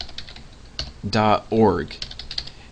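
Fingers tap out a web address on a computer keyboard in a run of light, irregular clicks, with a brief voiced sound rising in the middle.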